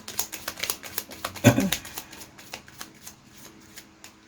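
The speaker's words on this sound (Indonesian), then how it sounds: "akan shuffle kartunya" Tarot cards being shuffled by hand for a love reading, a run of quick papery riffles and flicks with one louder burst in the middle, close and alone with no talking.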